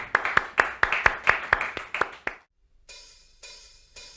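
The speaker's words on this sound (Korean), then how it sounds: "하나님께 영광의 박수 올리겠습니다" A church congregation claps to glorify God during an online youth worship service, about ten sharp claps in a steady rhythm that stop abruptly, followed by a quiet pause and then soft sustained music.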